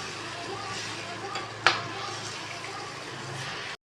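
Ridge gourd and chana dal curry stirred in a pan, giving a steady close sizzle and scraping wash with one sharp clink of the spoon midway.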